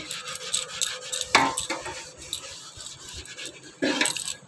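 Metal puja utensils being scrubbed at home, a steady scraping rub with occasional clinks and clanks of metal vessels knocking together, close and continuous with no talk.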